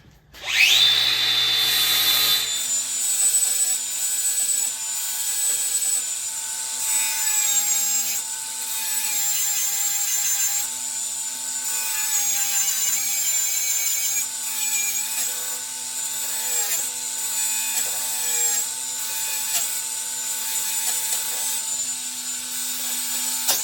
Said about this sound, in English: go around with the flat disc on the grinder to open the seam up, and then I can pry it off. We'll also grind the two welds off.